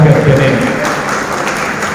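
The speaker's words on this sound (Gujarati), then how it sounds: "તાળીઓના ગડગડાટથી વધાવી લઈએ દીપ પ્રાગટ્યને" Audience applause greets the lamp-lighting ceremony at an NGO event on women's self-reliance and empowerment: a steady, dense wash of clapping that holds its level for two seconds, with a voice faintly mixed in.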